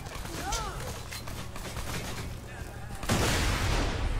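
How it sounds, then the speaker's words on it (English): Gunfire crackles in a Borderlands 2 firefight, then a sudden broad grenade blast near the end swells louder and lingers as a rumbling roar. "Oh shit, that was a grenade!"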